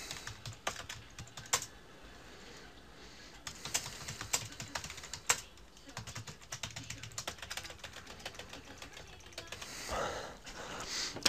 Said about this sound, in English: Sorry, keyboard's dying on me.